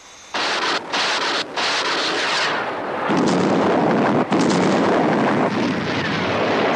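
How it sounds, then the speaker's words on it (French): A loud roaring blast of a launch with a couple of sharp cracks, followed by a sustained heavy rumbling roar of a distant explosion. "Gardons contact visuel pour explosion. Explosion positive."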